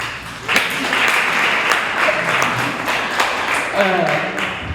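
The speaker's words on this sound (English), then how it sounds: "Oh, y'all gonna clap?" An audience at a youth summit breaks into applause, a moderate wash of clapping that rises and holds under a speaker's voice for a few seconds.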